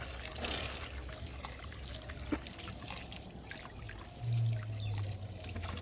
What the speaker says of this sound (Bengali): এই শিকড়ে একটু যেন মাটি না থাকে সেইভাবে এটাকে ভালোভাবে ধুয়ে নিতে হবে